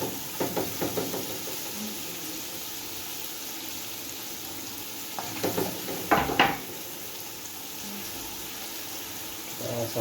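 Garlic, ginger and pepper fry in a pan with scallion, giving a steady low sizzle under faint voices, broken by a few brief bursts of stirring and utensil clatter.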